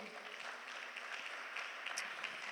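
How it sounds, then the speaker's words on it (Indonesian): A church congregation claps during a Sunday worship service, a faint, distant patter of many hands that stays steady throughout. "Tepuk tangan dulu bagi Tuhan kita"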